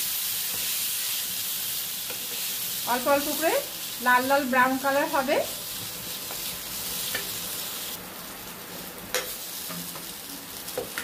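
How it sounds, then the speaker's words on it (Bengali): Potatoes frying in hot oil in a pan for a coriander potato curry, giving a steady broad sizzle with occasional stirring clicks, while someone speaks briefly over it partway through. "তেল গরম হয়ে এসেছে, এখন আমি আলুগুলোকে ছেড়ে দিলাম। ছেড়ে দিয়ে আলুগুলোকে ভাজা করে নিচ্ছি।"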